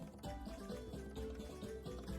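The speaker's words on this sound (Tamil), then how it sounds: "குங்குமப்பூவை சுடுதண்ணியில் கலந்து இதில் சேர்த்துருக்கேன்" Hot water infused with saffron is poured into a pan while making rava kesari, a soft continuous liquid pouring and bubbling sound, faint and close, with no talking.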